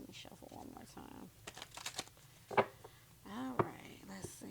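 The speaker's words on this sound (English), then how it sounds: "Let me shuffle one more time." Tarot cards being shuffled by hand, giving soft papery riffles and crinkling bursts mixed with light handling noise and a voice speaking between them.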